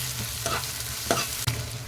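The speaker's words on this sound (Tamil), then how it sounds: "இதையும் நல்லா வதக்கிக்கலாங்க" Onion sautés with crushed ginger and garlic for a chicken kuzhambu, a soft steady sizzle beneath a low hum, punctuated by a few crisp spoon scrapes against the pan.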